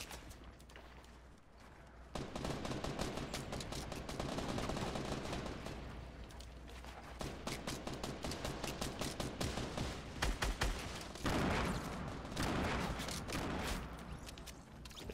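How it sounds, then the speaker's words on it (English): Fortnite Battle Royale firefight with rapid bursts of automatic gunfire, some single shots and clusters of quick cracks, steady at moderate distance and fairly quiet overall. "People up top shooting at me."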